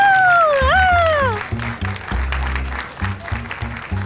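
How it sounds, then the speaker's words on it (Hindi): Clapping at a party arranged for a boss, loose and fairly close, mixed under a rhythmic thumping music track and a rising and falling synth tone at the start. "चलो सब तालियां बजाओ।"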